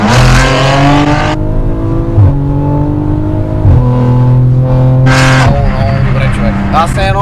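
An Audi RS7 engine drones loud and close under throttle, its pitch stepping up through several gear changes with brief dips between, while someone talks over it.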